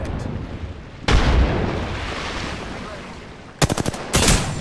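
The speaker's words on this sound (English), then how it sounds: "Getting shot at." Automatic gunfire in the Apex Legends video game crackles and booms, with a loud burst at the start, a sustained wash of shooting, then a rapid volley of sharp shots and a final close burst.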